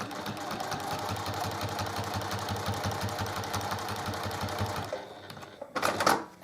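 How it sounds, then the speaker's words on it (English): A sewing machine stitches in the ditch along the seams of a pinned quilt, running as a steady, rapid, close mechanical chatter for about five seconds before stopping, followed by a brief louder rustle. "Once all this quilt in the ditch is done, I could take out all the pins in one go."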